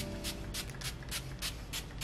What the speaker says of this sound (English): use my Instant Matte Makeup Setting Spray with Ever Matte Oil-Free Non-Sticky Lightweight stuff